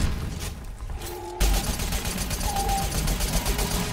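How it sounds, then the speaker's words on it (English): Grenades explode in the video game Crucible: a sudden loud blast hits partway through, then dense rumbling gunfire and explosion noise continues, with a voice faintly present in the mix. "Nades deployed!"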